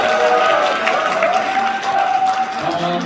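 A live audience applauds and cheers to welcome a guest lecturer at a personal branding seminar, with steady dense clapping and scattered shouts sustained throughout, a voice faintly audible underneath.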